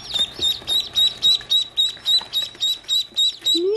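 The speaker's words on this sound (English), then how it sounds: "Oh, look at the duck. Little duckling says hi." A duckling and baby chicks peep close by in quick, evenly spaced high chirps, about a dozen in a steady run, with a faint rustle underneath.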